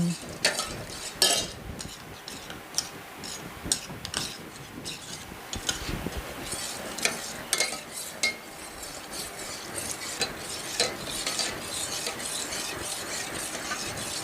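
Rice flour is stirred into a sticky rice and longan pudding mixture in a pot, with soft, irregular scraping and clinks of a spoon against the pot that are quiet and fairly close, plus a faint background sizzle.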